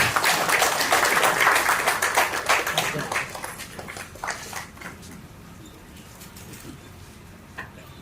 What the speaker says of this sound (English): Let us all give a round of applause for JP, sir.